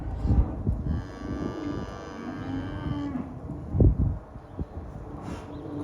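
Newly arrived cattle moo in long, drawn-out calls close by on a farm in Devon as hay is brought to them, with wind buffeting the microphone and some rustling and thumps around them.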